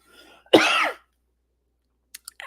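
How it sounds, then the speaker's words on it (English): A single short, harsh cough bursts out close up after a faint murmur. A few tiny clicks follow in near silence. "I apologize for the coughing and stuff like that"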